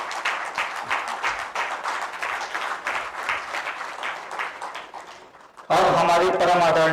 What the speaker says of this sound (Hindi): जोरदार तालियों से हमारे माननीय मुख्यमंत्री का स्वागत किया जाए।